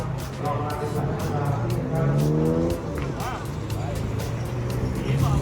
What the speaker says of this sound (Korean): 드디어 첫 툭툭이 탔음